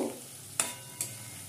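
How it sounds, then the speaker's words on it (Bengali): Sweet potato pieces fry gently in oil over a low gas flame, a soft steady sizzle with two sharp utensil clicks against the pan. "এবারে গ্যাসের ফ্লেমটা লো করে রেখে মিষ্টি আলুগুলো আস্তে আস্তে ভাজবো।"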